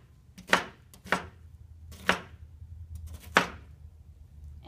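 Knife slicing an onion lengthwise on a cutting board, four separate crisp chops spaced about a second apart, close and clear with quiet between strokes.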